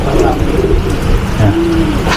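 Domestic racing pigeons coo in low, repeated throaty calls at close range over a steady background hum.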